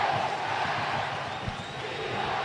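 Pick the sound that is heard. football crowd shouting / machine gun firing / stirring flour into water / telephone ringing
football crowd shouting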